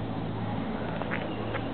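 A duck quacks a few short times against a steady outdoor background, fairly faint and close to other low noise, with no clear speech over it.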